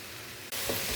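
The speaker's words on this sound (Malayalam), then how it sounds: "ഇതെല്ലാം കൂടി നന്നായിട്ട് വഴറ്റിയെടുക്കാം." Beef cooked with tomatoes, turmeric, curry leaves and spice powders is sautéed in a pan, a steady close hiss of frying that suddenly gets louder partway through, with no talking.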